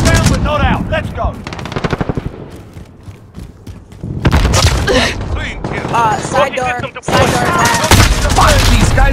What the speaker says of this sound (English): these guys are shooting through everything